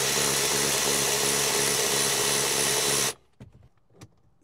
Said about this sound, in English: Once you've got pretty loose, the automatic ratchet can handle the rest.